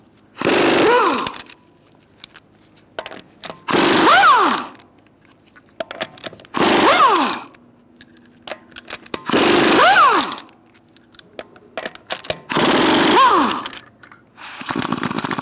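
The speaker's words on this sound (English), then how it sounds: "Using a 19mm socket, we'll take off our lug nuts." A 19mm socket on a power impact tool removing lug nuts from a 2000-2007 Ford Taurus, with loud whirring-rattling bursts of about a second each, repeated six times with quiet gaps between.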